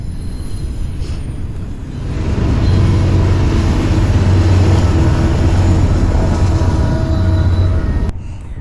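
A train rumbles steadily past at close range at Kansas City Union Station, the roar swelling and holding with a faint metallic whine before dropping off abruptly near the end.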